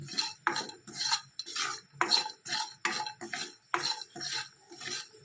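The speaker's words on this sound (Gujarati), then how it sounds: "આપણે ગરમ કઢાઈમાં સરસ આપણે શેકી લઈએ સાથે સાથે." Metal spoon scraping and stirring grated coconut as it roasts in a hot kadai, a steady run of close, rhythmic clinks and scrapes against the pan with no talking.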